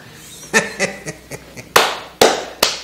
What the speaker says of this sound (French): Applaudissements pour moi-même